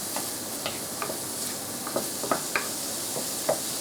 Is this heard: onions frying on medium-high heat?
yes